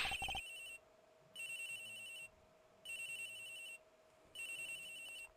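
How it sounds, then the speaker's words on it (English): A cell phone rings inside a locker in the video game Ace Attorney Investigations: Miles Edgeworth, a looping electronic ringtone in four evenly spaced bursts over a steady background tone, with no talk. "The ringing's coming from in here, sir."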